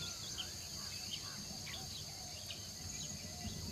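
Insects in the Amazon jungle, a dense steady high chirring drone with scattered faint bird chirps over a low background hum.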